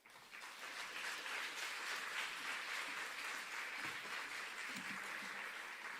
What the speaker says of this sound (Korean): 나올 때 큰 박수로 축복합시다.